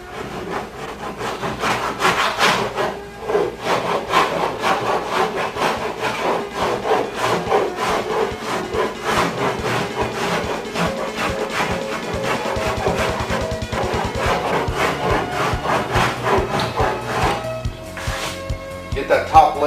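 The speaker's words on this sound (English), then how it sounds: "you need to try to use your cheese grater and turn it to make the turn" A cheese grater file works car body filler into shape on a car body, its repeated rasping strokes running in a rough rhythm beneath someone talking throughout.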